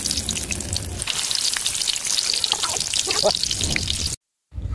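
An eggplant omelette sizzles and crackles in a pan of hot oil, a loud, steady frying hiss close by that cuts off briefly near the end.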